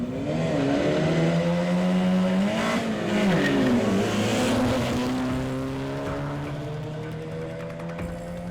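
Cars in an illegal night street race on a dark road rev and accelerate loudly, with engine tones rising and falling as the vehicles pull away.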